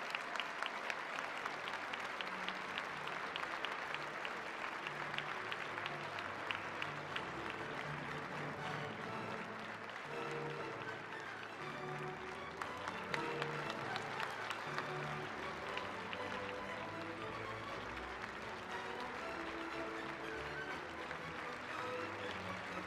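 Sustained audience applause fills a hall at the closing ceremony of a violin competition as an award is presented, steady dense clapping throughout with faint voices underneath.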